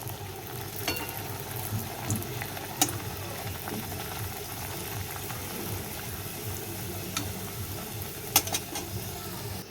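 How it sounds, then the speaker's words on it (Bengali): Dal puri dough fries in hot oil in a kadai, giving a steady soft sizzle with scattered small pops and crackles. The sound is fairly quiet and carries no talk. "আমার তেলটা গরম হয়ে গেছে এবার আমি কড়াইতে বেলে রাখা পেঁচিটা আমি দিয়ে দিলাম"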